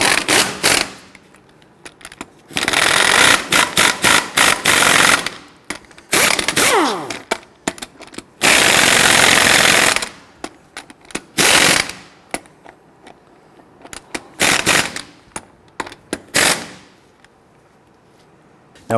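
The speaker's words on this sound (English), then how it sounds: "we're going to snug them down gently in a crisscross pattern" Lug nuts on a 2006-2010 Hummer H3 wheel are spun on with an impact or ratchet tool in a crisscross pattern, giving repeated loud bursts of whirring and clatter separated by short pauses.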